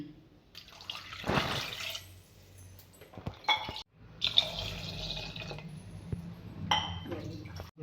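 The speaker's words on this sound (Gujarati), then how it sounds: "બટાકા બાફવા માટે આપણે બે ગ્લાસ જેટલું પાણી રેડીશું" Water splashes and trickles into a metal pot for boiling potatoes in a few separate bursts, close by, with brief clanks and quiet pauses between pours.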